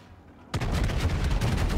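Ship cannons booming in World of Warships, a sudden loud salvo after a quiet moment, followed by dense rumbling gunfire that keeps rolling to the end.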